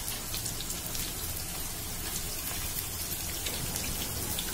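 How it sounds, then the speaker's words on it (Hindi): Soya chunks fry in hot oil over a high flame, a dense, steady sizzle and crackle of popping bubbles filling the sound at close range with no voices. "हाई फ्लेम में से हम फ्राई करेंगे।"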